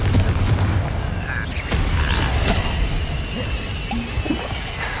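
Blasting-spell explosion from a video game, a loud dense burst of crashing, creaking and booming debris that fills the whole moment without pause, with no talk over it.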